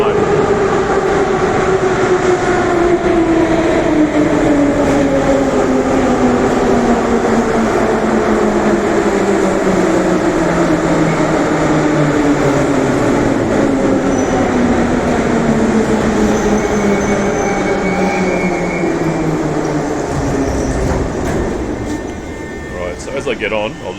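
A Moscow Metro subway train rumbles loudly through a tunnel, its motor pitch winding down steadily as it decelerates toward a station, with a constant roar and faint clatter before easing near the end; a voice speaks beneath it.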